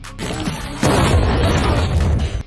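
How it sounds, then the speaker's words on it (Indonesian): A smoke bomb is thrown during a dancing scene in the 2023 action film Heart of Stone, giving a sudden loud boom-like burst that continues as a dense, rumbling roar until it cuts off. "Namun tiba-tiba sebuah bom asap dilemparkan."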